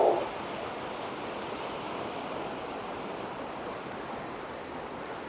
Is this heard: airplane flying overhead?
no